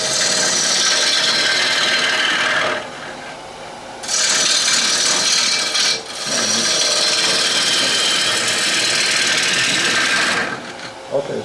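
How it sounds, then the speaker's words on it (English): A gouge blade cuts the raw wood of a bowl turning on a lathe, making a steady, loud scraping rasp in long stretches separated by brief pauses. "I'm touching only the blade to the wood, not the bevel"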